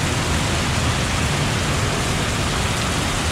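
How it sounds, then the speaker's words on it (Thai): Heavy rain pours steadily on a street in Ho Chi Minh City, a dense, constant hiss with no break and no voices throughout. "ฝนตกหนักมาก"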